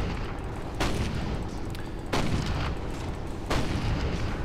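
Tank cannon fire in the video game Toy Soldiers: three heavy booming shots at roughly even intervals over a continuous loud rumbling battle bed.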